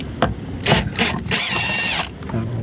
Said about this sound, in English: we're gonna go ahead and take the drill